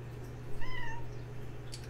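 A single cat meow, short and fairly faint, rises over a steady low background hum in an indoor setting.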